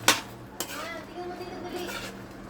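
A metal cooking pot clatters and clinks in a home kitchen while garlic shrimp cooks, with two sharp knocks followed by softer scraping and rattling under a faint background hum.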